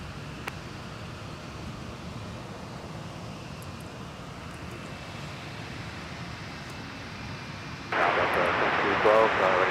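An Airbus A220 airliner at Minneapolis–St. Paul Airport, a steady distant engine roar with wind and traffic noise, growing louder and broader near the end, while someone talks over it.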